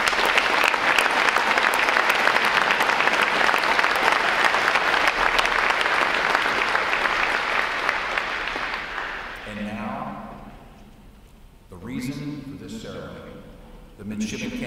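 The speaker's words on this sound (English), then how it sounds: "Please give these professionals a round of applause for their hard work." Loud, sustained applause from the audience at a naval service graduation ceremony, tapering off after several seconds before voices take over.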